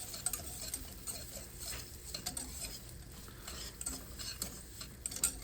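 Butter melts in a pan with whole milk poured in, giving a faint, steady sizzle under frequent scraping and tapping from a utensil stirring close by, with no one speaking.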